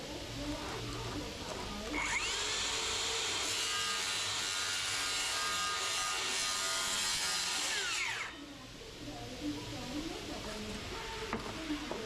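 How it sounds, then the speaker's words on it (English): A circular saw cuts through wood for about six seconds, a loud steady whine starting and stopping abruptly, with workshop noise and faint talk before and after. "We got the circular saw, cut all the wood away to make it easier"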